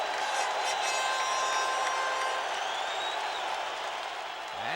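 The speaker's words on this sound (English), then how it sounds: "Listen to this crowd." A baseball stadium crowd at a 1988 Mets game rises in sustained cheering and applause, a dense roar of many voices holding steady before easing slightly toward the end.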